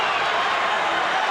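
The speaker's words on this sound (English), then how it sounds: "Crowd in a panic" A boxing arena crowd roars through the final seconds of a 1997 Whitaker fight, a dense, steady wall of noise from many voices with no breaks.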